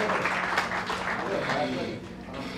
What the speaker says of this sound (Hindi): आपकी तालियां होनी चाहिए एक बार फिर